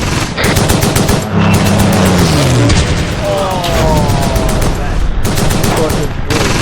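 World War II strategy game battle with loud, dense bursts of machine-gun fire and booming explosions, rapid and continuous, with a falling whistle and shouted voices in between.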